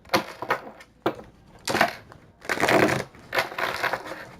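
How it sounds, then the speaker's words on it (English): A deck of tarot cards is shuffled up close in several quick, crisp bursts of riffling and slapping, separated by short pauses, with no talking. "Shuffle these up a bit."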